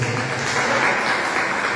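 Steady applause from a church congregation, sustained and fairly loud for the whole stretch with no pauses.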